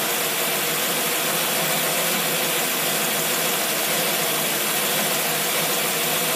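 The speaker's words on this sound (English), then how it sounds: "as you can see, the motor has smoothed right out." Car engine idling smoothly after adjustment of a Rochester two-barrel carburetor, a constant, even, loud rumbling hum with no speech.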